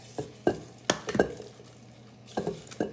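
A spoon stirs banana bread batter with eggs in a bowl, giving a few close, irregular clinks and wet scraping strokes separated by short pauses, fairly quiet and with no talk.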